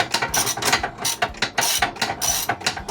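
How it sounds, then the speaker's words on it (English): A ratchet fitted with a 15mm socket and 10-inch extension loosens a seat bolt inside a Ford Econoline van, giving rapid, loud, close clicking in rhythmic bursts with no talk. "the best bet I found is a 15mm socket with a 10-inch extension, and that lets me reach right up in there"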